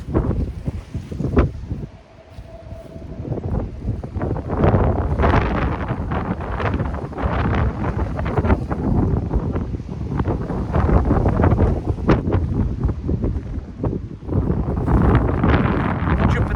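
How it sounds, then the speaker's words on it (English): Strong wind on a hillside roars and buffets the microphone continuously in loud, gusty surges with no pauses. "because it's so windy"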